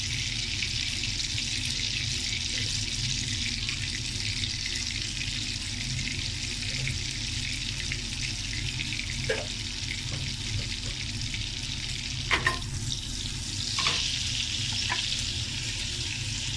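Cumin seeds frying in oil and butter in a pan for masoor dal, a steady close sizzle with a few brief clinks of a spoon partway through and no talking.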